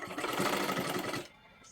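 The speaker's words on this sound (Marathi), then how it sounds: "अशा पद्धतीने आपल्याला शिलाई मारत मारत घ्यायचं आहे" Sewing machine stitching a kurti sleeve, a fast, even mechanical whir of needle strokes held for over a second before stopping abruptly, close but fairly quiet.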